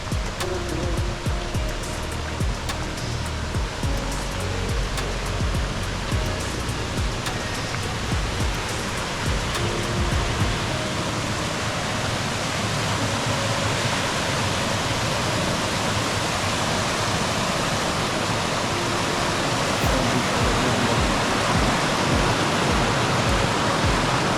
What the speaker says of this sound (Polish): Kaskadowy strumyczek.